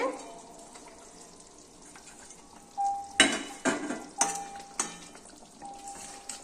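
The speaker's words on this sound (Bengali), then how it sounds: "আমি সাজিয়ে দিচ্ছি, মাছগুলো সব সাজিয়ে দিচ্ছি" Rui fish pieces for kalia crackle and sizzle in a hot pan, with a low steady fry broken by several sharp louder bursts and clatters as the pieces are laid in.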